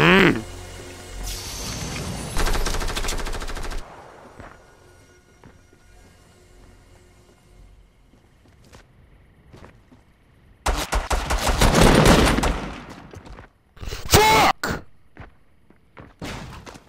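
Rapid automatic gunfire from the Fortnite video game in loud bursts, a long stretch at the start and more around the two-thirds point, with quieter gaps and players talking in between.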